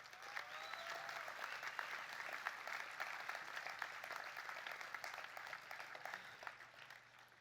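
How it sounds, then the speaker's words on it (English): Sustained audience applause at a memorial rally, a dense steady wash of many hands clapping at a moderate distance, with faint voices briefly rising above it. "I just want to applaud that right now"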